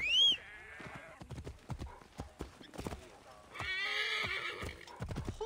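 In the video game Assassin's Creed Origins, a horse gives a loud whinny, its hooves clip-clop in a quick, uneven run, and a second drawn-out neigh follows, all close and clear.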